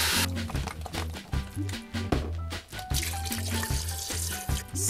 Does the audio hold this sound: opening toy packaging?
no